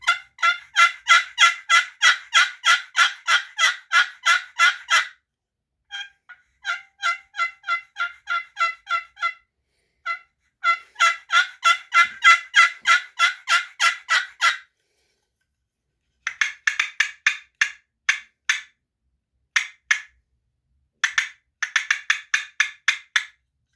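A hand-operated turkey call imitates a hen's cutting and yelping: loud, rapid bursts of sharp yelps in several runs separated by short pauses.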